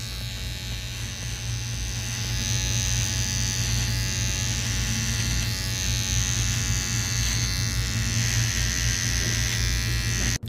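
A VGR V-082 cordless trimmer cutting hard beard hair, a steady close buzzing hum that continues throughout with small changes in texture as it moves across the hair.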